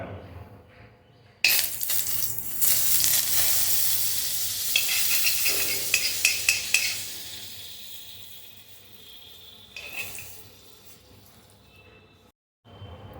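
White oil and butter hiss in a hot karahi on a gas stove, a loud, close, steady sizzle that flares with a few clinks of a utensil, then fades lower before a brief pause and resumes.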